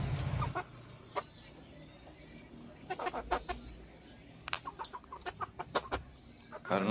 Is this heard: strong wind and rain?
no